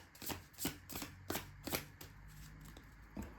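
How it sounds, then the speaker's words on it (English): Tarot cards being shuffled give a rapid series of crisp riffling bursts, close and fairly quiet, roughly every third of a second with short gaps, without talk. "I'm going to do one more quick shuffle."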